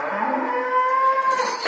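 A farm cow gives one long, clear moo, close and loud, with no other sounds around it.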